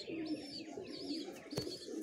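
A breeder male pigeon with clipped wings, kept paired for breeding, gives a soft, low cooing phrase nearby, quiet against faint room noise with a brief sharp click partway through.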